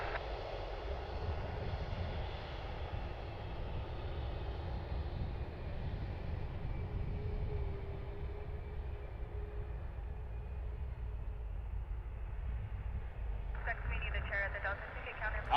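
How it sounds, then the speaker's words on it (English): A Southwest airliner's jet engines roar steadily during takeoff at Cleveland Hopkins airport, a loud broad rumble that holds throughout with a brief rise near the end. "And they are clear for takeoff, so let's see if they will light the burners as they make the turn here."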